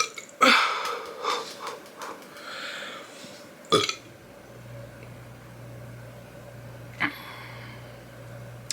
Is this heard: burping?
yes